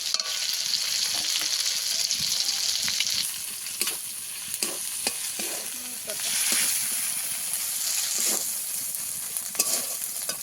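Cumin, coriander and chili pastes fry in hot oil for a pangas fish curry, giving a loud, steady sizzle and hiss with intermittent stirring scrapes close by.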